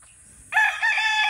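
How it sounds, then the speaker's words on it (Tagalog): A farmyard rooster, one of many fighting chickens kept loose in the yard, lets out a single loud, close crow after a brief quiet moment. "Ito muna yung mga manok."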